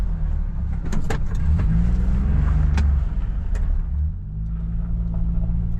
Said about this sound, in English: So it's just a easy way to spread grindings with the wheel loader.